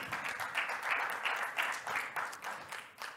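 A tech conference audience applauds and cheers, a steady, moderately distant wash of clapping lasting a few seconds without talk.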